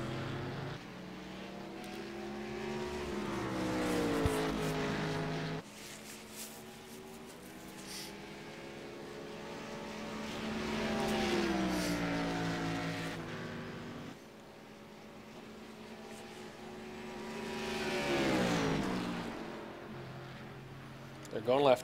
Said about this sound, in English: The Cadillac and a BMW come behind you.